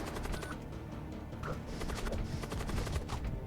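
A thunder cannon firing on a ship in the space game Void War, heard as a dense, continuous barrage of rapid crackling blasts that holds steady and slightly swells toward the end.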